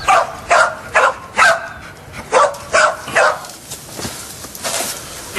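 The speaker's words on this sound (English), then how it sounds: "When he finds something, he barks." A cadaver search dog barks in a run of about a dozen sharp, fairly close barks at a steady rhythm, the last few quieter and more whining, with no talk over them.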